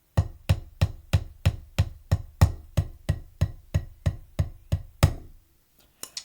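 Drum strokes hit with slammed downstrokes, about fifteen evenly spaced sharp hits in a steady beat, each with a short ring, followed by silence and one faint tap, close and alone.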